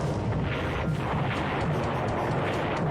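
Torpedoes strike ships in the War in the Pacific game, a dense, continuous roar of overlapping muffled detonations and rumbling booms that stays loud throughout the whole stretch without pause.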